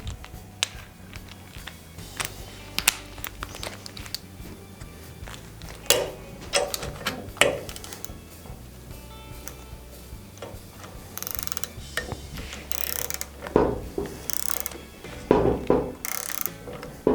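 A torque wrench tightens the four screws on a valve to 50 Nm, giving repeated ratcheting clicks and metallic ticks in irregular bursts. The bursts grow denser and louder toward the end against a low mechanical hum.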